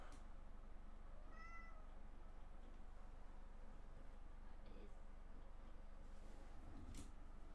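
A cat meows once in a short rising and falling cry, faint and somewhat distant, over a steady low background hum with a few soft knocks and no other clear sounds.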